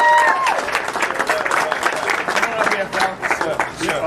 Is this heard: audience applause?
yes